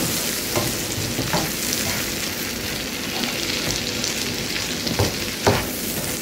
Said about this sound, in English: I'm going to saute that right here. My onions and garlic sauteed right there.